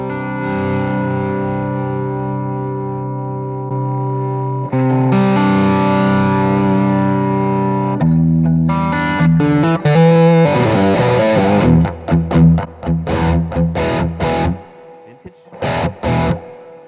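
Overdriven electric guitar through an AMP1 amp in JCM 800-style hard rock voicing, volume halfway at the edge of overdrive, playing sustained chords, then choppier, rhythmic strummed bursts with short gaps, loud and close.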